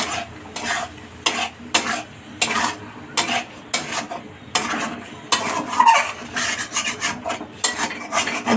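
Spices and mushrooms stirred in a pan along with papaya, potato and soybean chunks, giving repeated rasping scrapes of a spoon against the metal in a steady irregular rhythm over a low sizzle, close and fairly loud with no talk.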